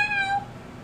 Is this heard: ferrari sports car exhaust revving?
no